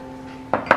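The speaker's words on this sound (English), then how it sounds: "you will whisk together flour, baking powder and salt" A whisk clinks against a mixing bowl holding flour, baking powder and salt for an Irish apple cake, two quick, bright metallic taps close by after a short hum.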